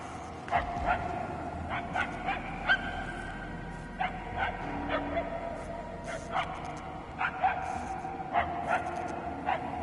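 A dog barks in the distance within a video game, giving repeated short yips and barks in irregular bursts over a steady ambient background, faint and far off, with speech-like sounds passing at times.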